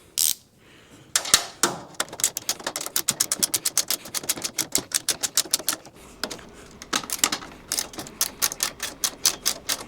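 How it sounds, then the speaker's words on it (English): Rapid runs of sharp mechanical clicks from a ratcheting wrench tightening bolts while mounting swivel casters on a cheap five-drawer steel tool cart, close and loud, in quick bursts separated by brief pauses. "So I had to get me a ratcheting wrench here for these"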